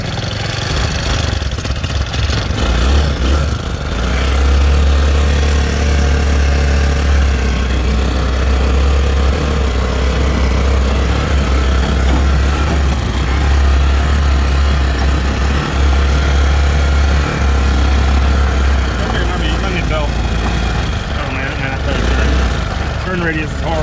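A side-by-side buggy engine runs steadily and loud through the whole drive, a constant low mid-pitched drone with a slight rise and fall in revs, and voices speak over it.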